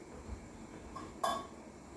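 A metal frying pan set on a gas stove in a home kitchen, giving a quiet clunk and then a brief bright metallic clink against the burner.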